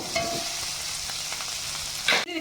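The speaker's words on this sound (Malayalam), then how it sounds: "സവാള നന്നായിട്ടൊന്ന് ഇളക്കി കൊടുക്കും" Chopped onion and green chillies frying in a pan while being stirred: steady close sizzle with soft scraping, ending in a brief louder clatter.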